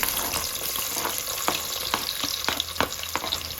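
Sliced onions with whole garam masala (cinnamon, cloves, cardamom, bay leaf) fry in hot oil as a steady close sizzle, with several sharp stirring scrapes of a spoon against the pan breaking through.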